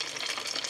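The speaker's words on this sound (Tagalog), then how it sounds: "Matagal ito siya maluto mga lods kasi buo ito na banana." Turon, whole banana wrapped in lumpia wrapper, frying in hot oil: a steady, dense sizzle with faint stirring, close and continuous throughout.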